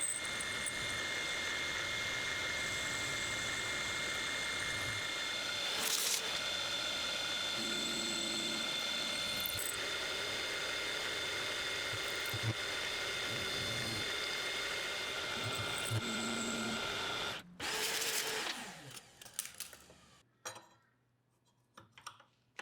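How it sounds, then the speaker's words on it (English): A milling machine cuts the inside of the jaws on a hand drop-forged steel wrench in a home workshop, a loud steady high whine with scraping cutter chatter that stops abruptly near the end, leaving quiet. "Next I'll mill the inside of the jaws"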